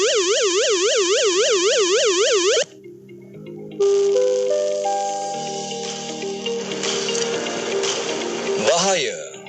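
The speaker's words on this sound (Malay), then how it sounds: "Kedua, bunyi siren bahaya." A Malaysian flood early-warning danger siren, a loud rising and falling electronic wail that cuts off abruptly, followed by a series of stepped electronic tones and then a recorded voice announcement over a tonal background.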